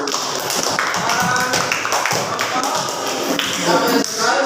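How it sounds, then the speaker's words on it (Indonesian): A classroom group claps for a student team, with uneven, close hand claps and taps that come in bursts and mix with a teacher's voice and shuffling noise. "tepuk tangan lagi untuk kelompok 1."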